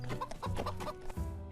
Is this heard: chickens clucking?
yes